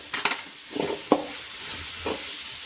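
Vegetables, with beans among them and lemon juice squeezed in, being stirred and fried for pulao, a few distinct spatula scrapes and clanks over a low sizzle, close and unaccompanied by talk.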